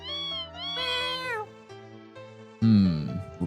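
A cartoonish cat meows in the Desktop Survivor 98 roguelike game, with one long wavering meow followed by a shorter, louder one near the end, clear and close with no talk.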